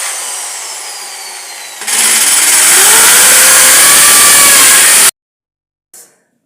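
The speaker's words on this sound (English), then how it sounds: "So it's time now to drill, guys. So watch the way I'm drilling." A power drill boring a hole in a wall to fix the screw for a handwash basin, a loud steady whine that rises in pitch when the bit bites, then stops abruptly, followed by a brief knock.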